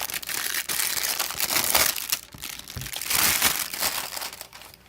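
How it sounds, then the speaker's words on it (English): Plastic wrapping being pulled and peeled off a new Le Pro3 phone, continuous loud crinkling and crackling up close with brief tearing bursts. "Getting the plastic off."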